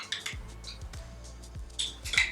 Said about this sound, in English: Now we're going to add 1 teaspoon of black treacle and stir that.